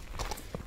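A horse's hooves clip-clop at a walk, a few light, close knocks in quick succession under faint outdoor background noise, with no talking.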